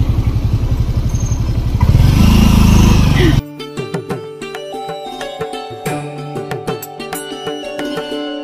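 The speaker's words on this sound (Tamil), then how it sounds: "அதுவும் பைக் ரைட்." Motorcycle ride at five in the morning in the Wayanad hills, the engine heard first as a rapid, even putter, then a louder rev, before it drops away into lighter rhythmic clatter and road noise.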